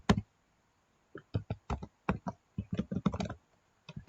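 Keys clack on a computer keyboard as code is typed, in short irregular bursts of firm, close keystrokes separated by brief pauses, with no voice over them.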